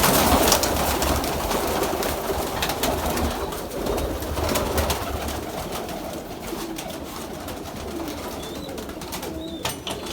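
Several pigeons, including a golden pigeon, coo repeatedly nearby, their soft throaty calls overlapping over a low steady background hum, with an occasional faint chirp.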